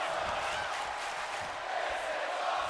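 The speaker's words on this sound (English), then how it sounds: "this crowd has been raucous all night in appreciation of some great in-ring action" Steady roar of an arena crowd cheering in the WWE 2K25 wrestling video game, a dense continuous wash of voices with no pauses, under commentary.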